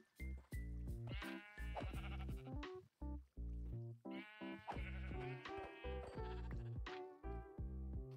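Sheep bleating repeatedly and loudly close by, a chorus of wavering, nasal calls overlapping one after another with barely any pause.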